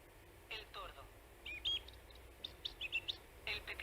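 Recorded bird songs play from a sound book, including thrush, robin, blue tit and blackbird, as a few faint, thin chirps and short trilling phrases at a distance beneath low background noise.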